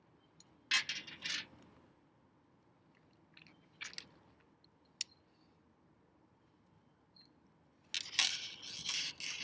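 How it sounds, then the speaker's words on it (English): A popped rivet being pried apart on a dagger, with a few sharp metallic scrapes and cracks in short separated bursts against a quiet background, the last one longer and rougher. "So I'm just prying apart that popped rivet"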